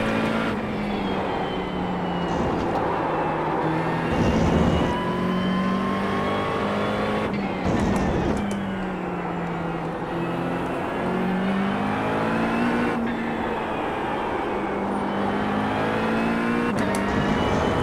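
A McLaren 720S GT3 race car laps The Bend circuit in iRacing, its engine note climbing and dropping with each gear change and corner in a continuous, moderately loud whine without a break.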